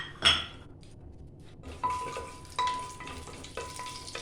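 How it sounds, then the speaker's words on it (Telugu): Whole bay leaf, shahi jeera and black cardamom frying in three spoons of oil in a pan on medium-high heat, with a soft sizzle under repeated utensil scrapes and clinks as the spices are stirred. "మాడిపోకుండా కలుపుతూ మనం వీటిని మంచి అరోమా వచ్చే వరకు ఫ్రై చేసుకుంటాం"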